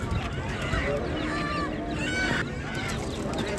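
Birds calling at a bird market in Ganja, with honking, goose- and duck-like calls repeating over a busy background while people talk nearby.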